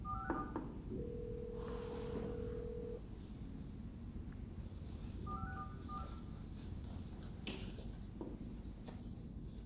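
Faint telephone tones over low background rumble: a short cluster of dial beeps, a longer steady tone, then a few more keypad beeps.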